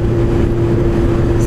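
A Suzuki GSR 750 motorcycle, its 750 engine shared with the GSX-R, drones steadily while riding, a constant close engine hum with wind rush and no pauses.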